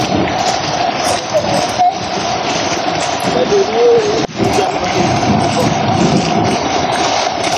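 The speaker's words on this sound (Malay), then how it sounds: "seronok main hujan tu" Steady rain falling outdoors near Bukit Lunchu, Bandar Seri Alam, a dense continuous hiss of drops close by, loud and unbroken, with faint voices underneath.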